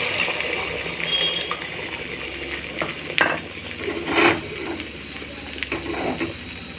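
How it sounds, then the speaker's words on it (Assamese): Egg paste for an Assamese egg omelette curry fries in hot oil with a steady close sizzle. Occasional stirring scrapes and light clinks of the pan sound over it. "এতিয়া মোৰ তেল গৰম হোৱাত মই এতিয়া ডিমৰ পেষ্টটো ইয়াত দি দিম"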